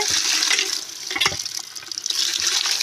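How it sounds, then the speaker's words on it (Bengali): Running tap water splashes steadily over mangoes being washed in a sink, a continuous near hiss with brief rinsing surges, no talking. "এখন এগুলো ধুয়ে আমি পরিষ্কার করে নেব।"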